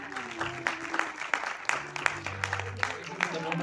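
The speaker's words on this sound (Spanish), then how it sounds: "un fuerte aplauso para ellos" A live audience applauds a guitarist and his brother at a tribute concert, the clapping dense and steady throughout with sharp individual claps standing out and some crowd voices mixed in.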